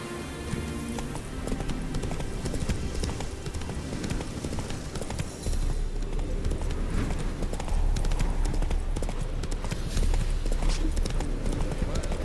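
Roach, the horse in The Witcher 3, gallops in a steady, fast clip-clop of hooves with a rain-like hiss over a game soundscape, the pace quickening partway through.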